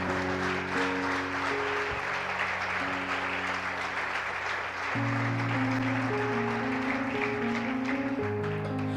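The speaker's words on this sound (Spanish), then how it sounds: "Bríndale un fuerte aplauso al Señor." Strong applause at a church ministry service, a steady crowd clapping that runs the whole time alongside sustained organ or keyboard chords that change pitch midway.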